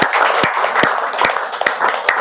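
Students clapping together for a veteran at a defence academy interview session, a burst of brisk, fairly loud applause with sharp individual claps standing out against the steady patter.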